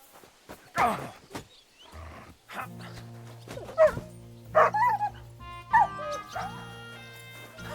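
Dog barking and yipping in the medieval role-playing game Kingdom Come: Deliverance 2, several sharp barks and whimpers spread over a few seconds against a steady low background hum.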